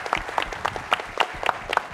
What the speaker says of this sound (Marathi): एकदा जोरदार टाळ्या झाल्या पाहिजे परचेस हाऊससाठी.